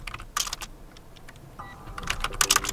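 Keys on a computer keyboard clatter in quick bursts while an SQL query is typed, close and clear, with short gaps between clusters of keystrokes.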